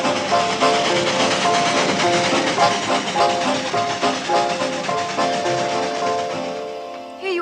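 A steam train running, with a dense rhythmic chuffing and clatter, steady and loud throughout, with hiss and metallic rattle and some background voices.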